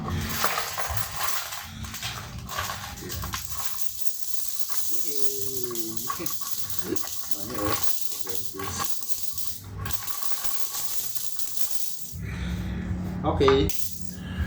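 Coins drop one after another into a bamboo coin bank, clinking and rattling in irregular bursts with metallic ringing, close and moderately loud, with quieter pauses between drops.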